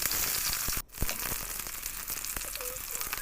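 Onions hit hot oil with panch phoron in a kadai, sizzling and crackling loudly and steadily. The hiss briefly dips for a moment, then carries on as a close, continuous fry.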